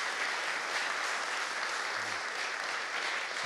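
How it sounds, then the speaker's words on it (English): An audience at a BIM workshop gives the presenter a round of applause, a continuous even patter of many hands at moderate loudness with no voices over it. "give James a round of applause for his time"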